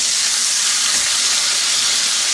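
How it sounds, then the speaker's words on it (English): Steady bright sizzling hiss of a pork roast browning in a hot pan with butter, continuous and close, with no one talking. "She hears it sizzling and she thinks, wow, it's going to be food."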